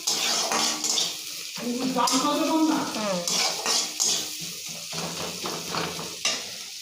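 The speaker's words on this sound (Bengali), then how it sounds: "পেঁয়াজটা তেল দিয়ে ভেজে নিচ্ছি" Onions fry in oil in a pan, giving a steady sizzle with stirring and utensil scrapes against the pan, while a person talks over it throughout.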